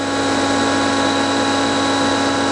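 A Fryer CNC vertical machining center's spindle runs at 4,000 RPM, producing a loud, constant mechanical whine with steady tonal hum and no variation, heard alone.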